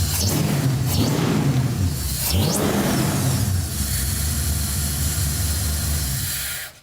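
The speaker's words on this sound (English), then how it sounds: "Do a rev for the audience." A camper van's engine revs hard, rising and falling in a couple of strong surges before settling into a steady, loud idle that fades at the end.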